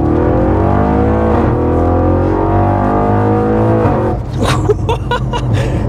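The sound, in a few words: Audi RS6 Stage 2 car accelerating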